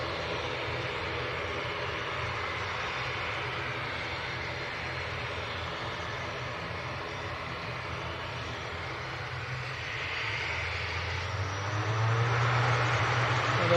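An Aer Lingus airliner departing Manchester Airport for Belfast, a distant, steady jet engine roar that swells louder near the end.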